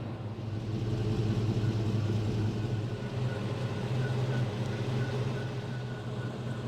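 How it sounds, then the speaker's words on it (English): A lowered 1940 Ford Coupe driving slowly over speed bumps, its engine a steady low rumble throughout with mild swells in tone, close and continuous with no talking. "Just gonna take the car for just a little burn over these speed bumps here"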